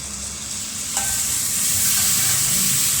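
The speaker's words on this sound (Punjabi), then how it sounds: "ਹੁਣ ਚੰਗੀ ਤਰ੍ਹਾਂ ਆਪਾਂ ਟਮਾਟਰਾਂ ਨੂੰ ਵੀ ਭੁੰਨ ਲਵਾਂਗੇ" Tomatoes frying over a low gas flame in a pan with white chickpeas, a steady, close sizzle that builds slightly louder, with a faint clink of a utensil near the start.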